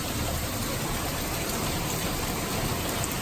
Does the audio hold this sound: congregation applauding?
no